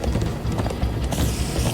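Hoofbeats of horses galloping in the Minecraft Story Mode video game, a steady fast clip-clop running loud and continuous throughout with no talking.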